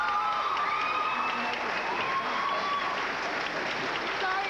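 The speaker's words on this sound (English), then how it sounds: "one more round of applause" An audience at a high school performance of Guys and Dolls gives dense, sustained applause with scattered cheers and shouts, loud and continuous throughout.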